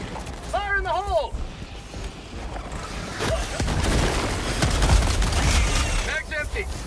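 A sustained burst of rapid gunfire empties a magazine in Helldivers 2, a dense rattling stretch in the middle, with a person talking briefly before and after it.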